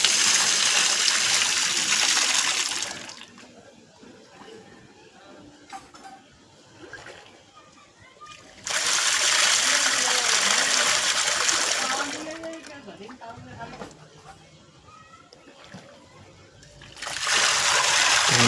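A motor-pumped pipe gushing water and sludge: loud bursts of rushing, splashing flow lasting several seconds each, separated by quieter stretches where someone talks over faint trickling.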